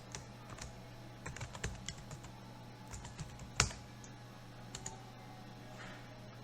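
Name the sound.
typing an address on a computer keyboard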